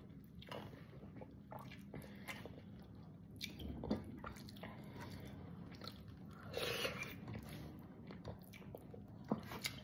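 Dal seasoned with coriander leaves and green chili being eaten, with soft irregular bites, moist squishy chewing and faint scraping at close range over a quiet room background; no talk.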